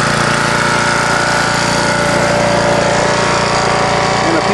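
A generator engine runs loud and close, with a steady, rough mechanical drone and a rapid pulsing rattle that hold constant throughout without letup.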